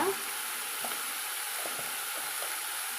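Ivy gourd flower stir-fry with a little turmeric powder hisses in a steady, even sizzle as it is mixed in the pan, with a few faint soft stirring taps and no voices.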